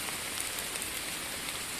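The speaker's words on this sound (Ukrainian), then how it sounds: "Дощара вже задовбала просто, бля." Steady autumn rain falls outdoors near old wartime trenches, a dense, even patter on the ground and surroundings that stays constant and fairly close, with no voices.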